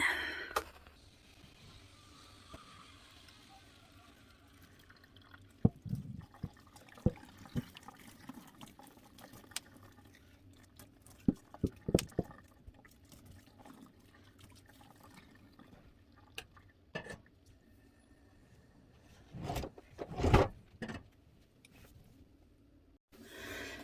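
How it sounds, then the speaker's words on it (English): Boiling water is poured over a doll's head of freshly curled hair, giving faint, scattered drips and short pouring splashes, with brief louder bursts near the end and no talking. "it's a lot easier to just pour boiling water over a head than it is to take this whole body to the kitchen sink"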